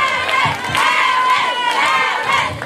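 A concert crowd at a live music show cheers and shouts loudly, with many overlapping voices and whoops rising and falling in waves, applause blended under the cheering.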